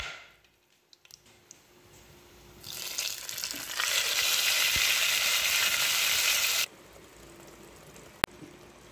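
Spice paste for a beef curry sizzles loudly in a hot pan, rising from a quiet start into a steady, dense frying hiss that holds for several seconds before cutting back to a faint background.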